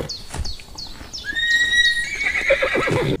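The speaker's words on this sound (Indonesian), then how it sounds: "Wow, ada hewan kuda teman-teman." A toy horse gives a loud, close whinny that rises into a long, wavering neigh. A few hoof-like clip-clop knocks come first, and there is no talking.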